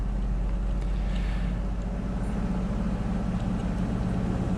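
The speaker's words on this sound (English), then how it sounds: "the washer is spinning now in the spin cycle" A washing machine in its spin cycle hums from the background as a steady low droning rumble, unbroken and fairly faint, with no voices over it.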